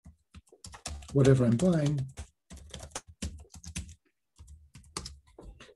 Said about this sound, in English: I would just have to type in whatever I want to